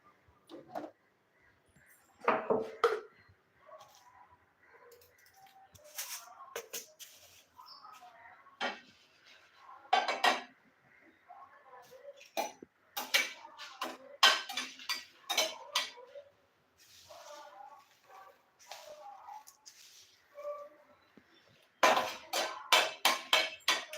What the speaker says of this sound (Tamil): இந்த வரமிளகா போட்டுக்கலாம் இதையும் போட்டு நல்லா வறுத்துக்கலாம்